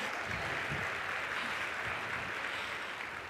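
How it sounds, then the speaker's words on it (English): Sustained applause from a large live-event audience greets a horse ridden at the Olympics, steady dense clapping filling the space throughout without pause. "listen to everybody clap at him"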